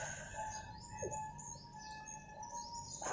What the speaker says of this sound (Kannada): ಹೊರಗಿಂದ ಒಂದು ಕಾಗೆ ಕೂಗ್ತಾ ಉಂಟು.